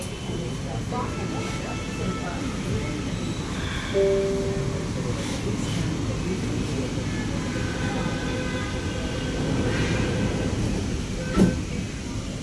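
A Bangalore metro train in motion, heard from inside the carriage as a steady, even rumble and hum that runs the whole time, with a couple of brief tones rising above it.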